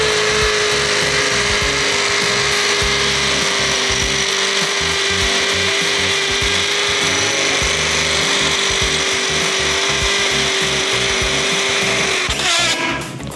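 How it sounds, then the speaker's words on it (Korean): An HPT HD210N hammer drill fitted with an 11mm bit bores into concrete with a loud, continuous, close grinding roar and an even motor whine, then cuts off near the end. "망치질을 하면서 드릴 날이 고속으로 들어가면서 콘크리트에 구멍을 뚫어주는 거예요"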